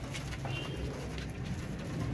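Royal Teddy pigeons coo in a loft through faint, soft murmurs set in a dense, noisy background hum, with no talk.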